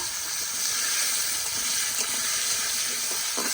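Potatoes fry in hot oil in a village kitchen, a steady bright sizzle that holds loud and even, with faint clinks of stirring.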